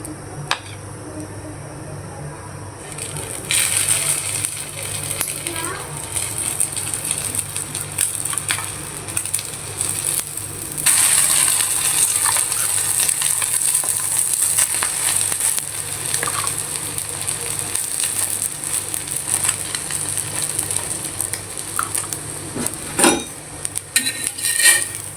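Sugared bread dipped in beaten egg fries in a pan. A steady, loud sizzle holds throughout, with occasional scrapes and clinks of utensils on the pan. No talking.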